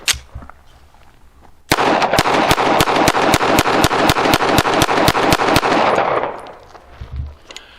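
A GForce Exodus RPX9 9mm pistol, a budget Glock 19 clone, firing 115 grain Federal ammunition in a fast, evenly spaced string of about eighteen loud, sharp shots outdoors, followed by a fading echo and a quieter stretch.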